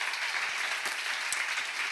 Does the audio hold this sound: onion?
no